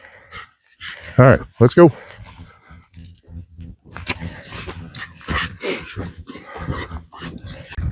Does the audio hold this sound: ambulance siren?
no